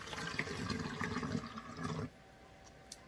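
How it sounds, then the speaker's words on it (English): Water pours through a funnel and gurgles for about two seconds, then stops, leaving quiet room tone with a faint drip or clink near the end. "I'm gonna put in the 1 cup water to start."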